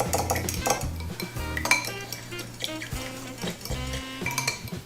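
A spoon clinks and scrapes against a bowl as spice seasoning is mixed for smoked spare ribs, quick rhythmic stirring with bright metallic taps, close and steady.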